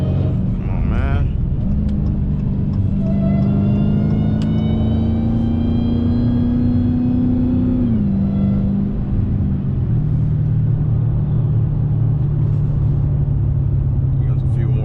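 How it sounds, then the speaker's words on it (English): An 850-horsepower Dodge Hellcat engine roars loudly under hard acceleration, its pitch climbing steadily, then dropping at a gear shift before settling into a sustained drone. "What an 850 horsepower car feels like"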